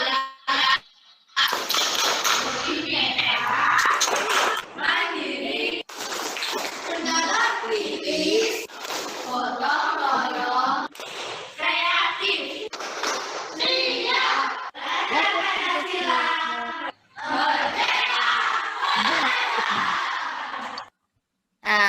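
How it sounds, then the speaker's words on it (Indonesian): A group performs the Pancasila student clap, with many voices chanting in rhythm and bursts of clapping mixed in. The sound is loud and close, with short pauses between phrases. "itu tadi Bapak Ibu, tepuk pelajar Pancasila"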